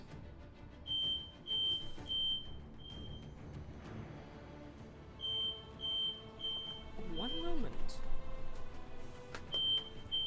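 A repeating high electronic beep, like a smoke alarm, chirps in short bursts throughout, under background noise, a brief spoken phrase and scattered in-game sounds during a Dragon Age: Inquisition play session.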